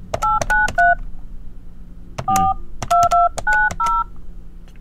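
Phone keypad DTMF tones for a call, three quick beeps, a pause, then a denser run of beeps, crisp and close with no voices.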